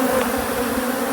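Robber bees swarm a colony's honey comb, a dense, steady buzzing hum from many insects close by, with no break for the whole short moment.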